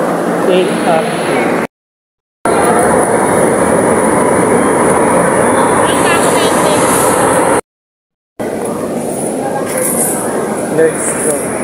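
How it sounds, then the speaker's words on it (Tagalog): An LRT Line 1 light rail train at a station in Pasay makes a steady rumble with rail noise, and people talk over it throughout. "LRT 1 station"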